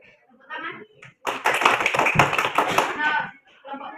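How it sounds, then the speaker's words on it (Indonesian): Children in a classroom clap hands in a quick rhythmic burst lasting about two seconds, close and fairly loud, with voices speaking before and after it. "Tepuk tangan."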